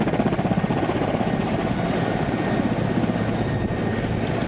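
A MONUSCO helicopter's rotor chops steadily and loudly close by as it lands in Goma, a dense throbbing roar with a rapid beating pulse that holds throughout.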